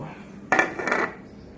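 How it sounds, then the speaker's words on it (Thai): A metal pan and a plate clatter down onto a hard surface in a quick double clunk, close by, then fade into quiet room tone. "จากนั้นเราก็เอากระทะมาวาง"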